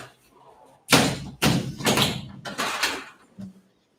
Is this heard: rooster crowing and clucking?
no